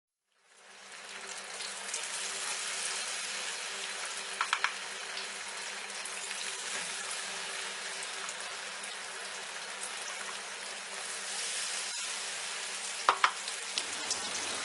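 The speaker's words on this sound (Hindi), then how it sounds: "तो हम इसे मीडियम फ्लेम के ऊपर दोबारा से फ्राई कर लेते हैं" Chicken wings being re-fried in oil over a medium flame produce a steady, close crackling sizzle that runs nearly the whole time, with a few sharper pops near the end.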